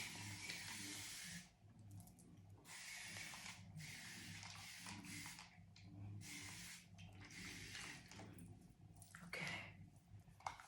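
A handheld mist bottle spraying onto a synthetic wig, heard as several close, soft hissing bursts of a few seconds each, separated by short pauses, in a quiet room with no talking.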